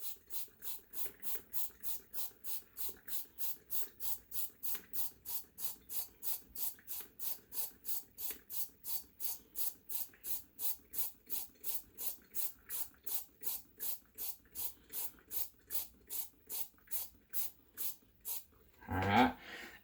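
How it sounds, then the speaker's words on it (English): Cooking oil spray bottle pumped rapidly into mugs for a funfetti cupcake, a steady train of about sixty short, even hissing bursts close up, ending with a louder clunk. "60 sprays in each one of these."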